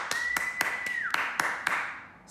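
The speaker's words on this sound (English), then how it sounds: "Give them a clap, everybody." At a primary school assembly, about seven sharp claps land at an even rhythm, close and distinct, over a steady faint tone that fades toward the end.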